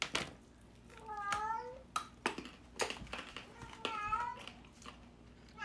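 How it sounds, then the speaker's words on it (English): An indoor house cat gives two distinct meows a few seconds apart, faint against quiet room noise with small clicks and handling sounds between them. "Just ignore our cat."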